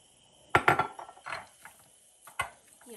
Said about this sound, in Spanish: Y así vamos a ir batiendo.